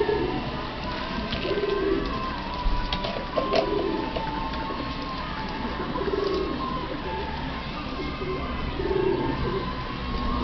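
Pigeons being fed by hand coo in repeated low, murmuring phrases over a steady outdoor background hum, with occasional faint chirps mixed in throughout.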